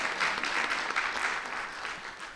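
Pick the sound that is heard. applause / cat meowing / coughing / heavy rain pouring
applause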